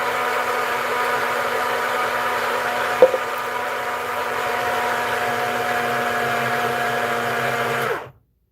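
Blender mashing food runs as a steady, loud motor whine, close and unbroken for about eight seconds, with one faint clunk partway through, before it cuts off sharply.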